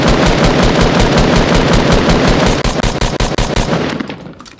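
A submachine gun in Fortnite Battle Royale fires a long, loud rapid burst of shots in quick even rhythm, breaking into a few stuttered shots before the gunfire fades out.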